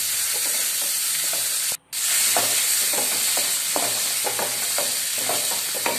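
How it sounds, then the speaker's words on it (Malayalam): Mixed vegetables sautéing and being stirred in oil left from frying chicken, a steady close sizzle with repeated scraping stir strokes and one brief gap of near silence partway through. "ആ എണ്ണയിൽ തന്നെ മറ്റുള്ള പച്ചക്കറികളെല്ലാം നമുക്കൊന്ന് വാട്ടിയെടുക്കാം"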